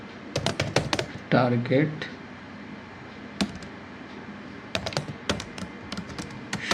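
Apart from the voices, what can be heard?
typing on a computer keyboard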